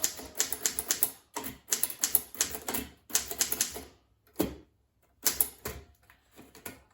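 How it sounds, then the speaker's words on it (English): Close, crisp keystrokes on a Corona Junior typewriter come in quick bursts of clacking strikes separated by short pauses, each flurry of several keys followed by brief silence. "So from here, you can pretty much just start typing."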